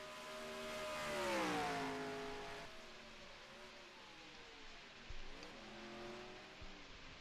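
A race car in the NR2003 racing game at COTA passes with a rising engine whine that sweeps in pitch, fairly faint, followed by a second quieter engine pass and brief low thumps.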